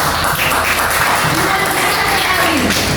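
Classroom applause during a teaching practice lesson, dense continuous clapping from a group of students, loud and steady for the whole stretch.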